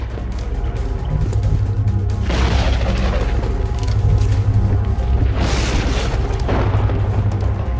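Weapon fire in XCOM Enemy Within, loud booming blasts over a steady low rumble of game background, with two heavy bursts rising through the clip.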